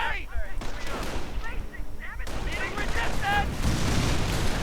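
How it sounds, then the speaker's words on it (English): Panzerschreck blasts and gunfire in a WWII strategy video game, several sharp bursts and booms amid battle noise, with a commentator talking throughout. "Panzerschreck and gunfire hammering away."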